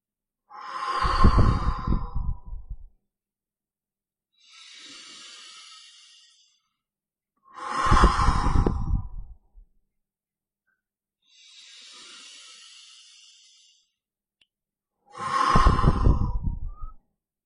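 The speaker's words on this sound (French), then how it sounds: "vous allez faire 3 respirations profondes" Three slow, deep breaths in a sophrology relaxation session, each a loud, breathy exhale followed by a softer, airy inhale, evenly spaced with silent pauses between and no talking.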